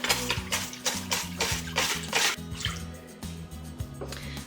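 Liquid ceramic engobe (slip) stirred in a container, with quick rhythmic sloshing and dripping strokes, close and fairly soft, alone without talk.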